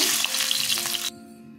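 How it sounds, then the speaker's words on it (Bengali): Fenugreek seeds crackle in hot oil for a Bengali fish curry, giving a short bright sizzle that cuts off abruptly after about a second. "দেখুন বেশি করে মেথি ফোড়ন দিচ্ছি।"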